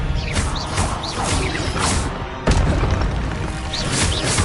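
Heavy booming blasts from a Confringo explosion spell in Hogwarts Legacy, loud and dense with rumbling low end, one sharp impact midway and whooshing swells around it.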